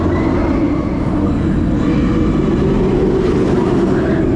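A roller coaster at Alton Towers rumbles past in a steady, loud low roar that holds without a break, a dense continuous rush of wheels on track with no voices.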